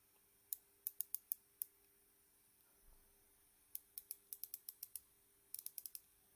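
A Seiko Midnight watch gives off crisp, quiet clicks in quick bursts, a handful at a time with short pauses between, in an otherwise silent room.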